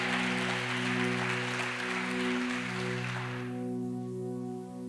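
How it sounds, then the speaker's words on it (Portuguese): Dense applause from a church congregation during a sermon, loud and continuous over a sustained musical drone, then fading away while the held chord continues. "Pode aplaudir o Senhor Jesus bem forte"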